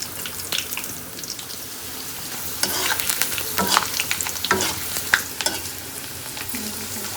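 Food frying in a pan while being stirred, giving a steady sizzle broken by repeated scraping strokes of the spoon, close and alone without speech.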